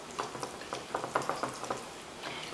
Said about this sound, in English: So I'm going to mix that all together.